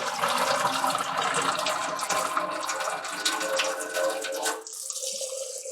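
Rice being washed under running tap water before cooking in a Zojirushi rice cooker: a steady, loud rush of water that cuts off abruptly near the end, leaving a quieter trickle.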